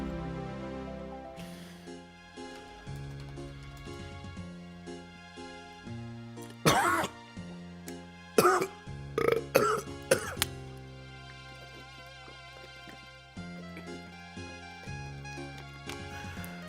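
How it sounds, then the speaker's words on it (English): A man coughs in a cluster of harsh, loud bursts partway through, over steady background music, after eating a lot of pizza. "I was like coughing up freaking stomach acid right there from all this goddamn pizza I had"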